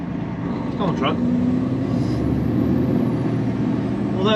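Truck engine rumbling steadily on a local run while the automatic gearbox shifts, with a brief hiss of air and a voice talking over the close, continuous drone.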